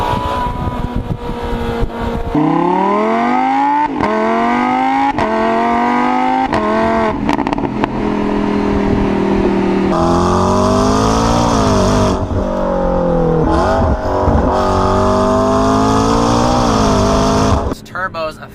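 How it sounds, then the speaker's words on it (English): A McLaren 650S turbocharged engine revs through repeated rising and falling sweeps, loud and close, with gear changes breaking the pitch, while a person talks over it. "The exhaust note leaves something to be desired compared to its naturally aspirated competitors."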